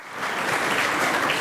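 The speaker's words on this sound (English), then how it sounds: "we'll clap to that." Audience clapping at a Super Scholars recognition ceremony for students, parents and administrators: a dense, steady wash of applause from many people, moderately loud and continuous for the brief moment.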